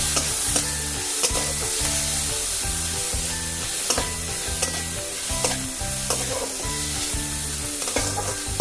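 Vegetables stir-fried in a kadhai for a cheese pizza, a steady sizzle broken by regular scraping strokes of a spoon against the pan, close and loud, with no voices.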